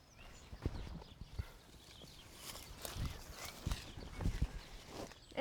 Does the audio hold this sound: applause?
no